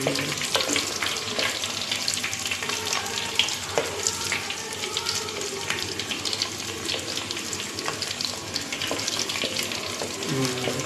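Onions frying in oil in a pan for a fish curry, giving a steady, dense sizzle with occasional stirring scrapes and clinks, close and continuous with no one talking.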